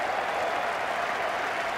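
A large cricket crowd of over 17,000 gives a sustained ovation, dense continuous applause filling the short stretch at steady loudness.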